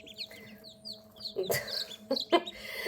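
Baby turkey chicks peep in thin high chirps, with a few louder clucks and short bursts of rustling close by.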